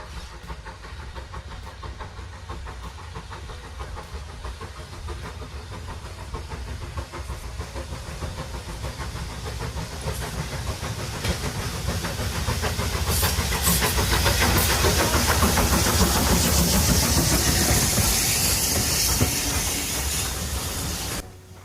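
A train rumbles at Ribblesdale Railway with continuous steam hiss and mechanical clatter, building louder toward the middle and staying strong until near the end.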